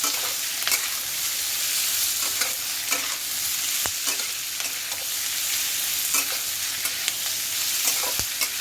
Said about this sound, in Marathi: हे तोंडले चांगले फ्राय करून घ्यायचे तेलामध्ये, चांगले असे फ्राय झाले पाहिजे।